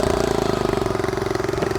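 A quad bike engine with a centrifugal clutch runs nearby with a loud, rapid, pulsing thrum. Its steady rhythmic beat rises slightly as it accelerates.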